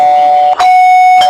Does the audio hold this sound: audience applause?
no